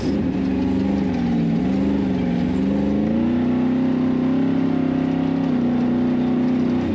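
A 4600-class off-road race car at a Nor Cal rock racing event holds a loud, sustained engine drone, its pitch wavering and rising slightly as it revs close by.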